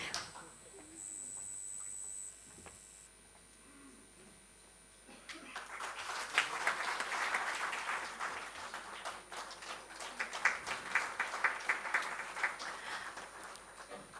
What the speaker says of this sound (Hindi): ज़ोरदार तालियां मैम के लिए बजा दें